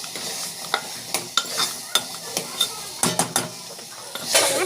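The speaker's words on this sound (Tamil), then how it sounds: "நம்ம வந்து சேப்பக்கிழங்கு வந்து ஆட் பண்ணிக்கலாம். ஆட் பண்ணிவிட்டு நல்லா வந்து வதக்கிக்கோங்க." Colocasia sautéed with spice powders in a pan, a close spoon tapping and scraping the pan in quick repeated knocks over a soft sizzle, with a louder hissing burst at the end.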